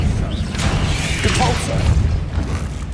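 Bombarda spell explosion in the Hogwarts Legacy video game, a loud booming blast with a rumbling low end and crackling debris, under a voice calling out the spell.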